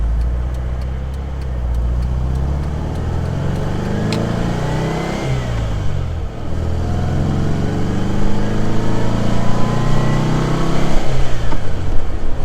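A classic Porsche 356 engine runs loudly and close, its pitch rising and falling through several rev changes as it accelerates and shifts, with no voices.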